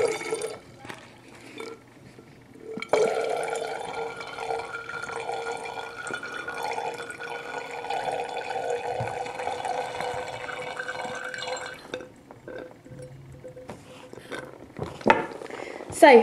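Thirty millilitres of water are poured into a measure for a sodium thiosulfate dilution, a close liquid trickle running for several seconds between quieter gaps, with small clinks near the end.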